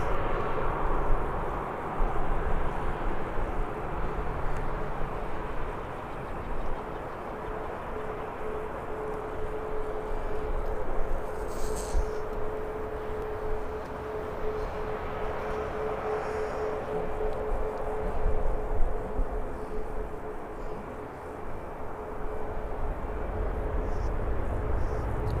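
An aircraft departs Birmingham Airport, its engine roar a steady, moderately distant rumble that swells and eases slightly over the whole stretch, with a faint tonal hum running through it.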